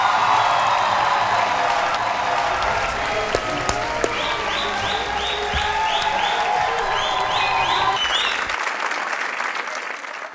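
A studio audience at a comedy roast show bursts into sustained applause mixed with cheers and whoops, loud and continuous before tapering off near the end.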